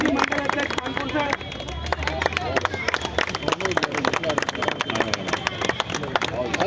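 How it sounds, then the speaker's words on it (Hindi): A crowd at a BJP election campaign gathering breaks into loud, sustained applause to welcome a speaker, a dense, continuous patter of many hands clapping close by. "जोरदार तालियों से स्वागत।"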